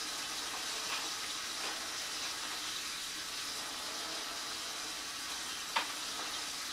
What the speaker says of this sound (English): wash these dishes